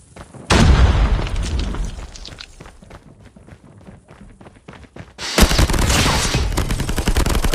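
Frag grenade blasts and gunfire in Call of Duty Mobile, with a loud booming burst, a stretch of scattered rapid shots, then a second sustained heavy explosion and fusillade near the end.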